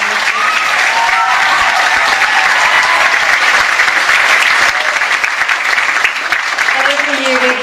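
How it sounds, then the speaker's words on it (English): An audience gives a sustained round of applause at a live pirate-themed show, loud and dense clapping that fills the room, with a voice speaking over it near the end. "could we please give her a round of applause?"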